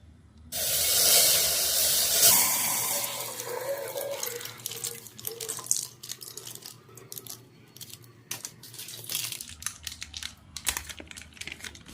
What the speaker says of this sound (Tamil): பால் பாக்கெட் பிச்சு ஊற்றிக்கலாமா?